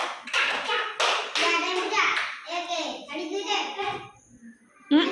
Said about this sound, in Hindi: ताली दियो।